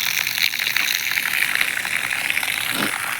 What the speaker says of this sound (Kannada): ಇಲ್ಲಿ ಬಂತು ನೋಡಿ ನೀರು